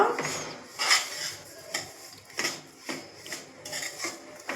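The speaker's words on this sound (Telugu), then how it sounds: "నీట్గా మంచి స్మెల్ వచ్చే వరకు వేంపాలి. మిక్స్ చేస్తూనే ఉండాలండి." Semolina roasting in a pan for rava laddu, a utensil scraping and stirring against the metal in a slow, irregular rhythm of rasping strokes, close and fairly quiet.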